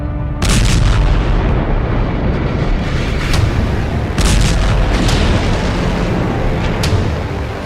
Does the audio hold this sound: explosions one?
yes